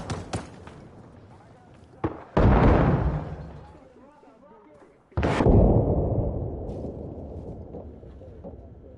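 In the video game ARMA, a grenade explodes beside a house with a loud, close boom and a long rumbling decay. A second heavy blast follows a few seconds later, and sharp cracks sound at the start.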